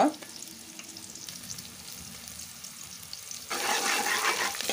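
Bay leaf and cinnamon frying in hot oil for a murrel fish curry, a soft steady sizzle that suddenly swells into a louder, brighter crackling hiss near the end.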